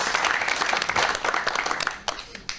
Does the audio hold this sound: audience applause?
yes